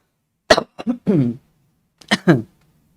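A woman with recent laryngitis coughs sharply several times during a live stream, in two close clusters of harsh, near bursts with a brief quiet gap between them.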